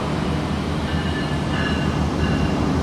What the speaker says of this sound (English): That's train 718 going to Bakersfield.